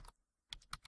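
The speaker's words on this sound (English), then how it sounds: "we're going to type in" Typing an IP address on a computer keyboard: a few quick key clicks at the start, a pause of near silence, then a short burst of four close, crisp keystrokes.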